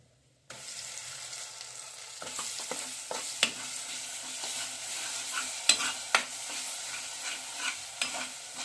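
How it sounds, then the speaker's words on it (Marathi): Ground masala paste for mutton curry frying and being stirred in a pan, starting suddenly with a steady sizzle and scattered scraping clicks from the spoon. "आणि त्यानंतर आता हे वाटण टाकूया आणि वाटून भाजून घेऊया."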